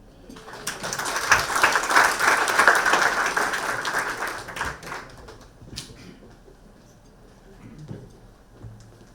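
An audience applauds loudly with dense, steady clapping that swells, then thins and fades out partway through, leaving scattered claps and quiet room noise.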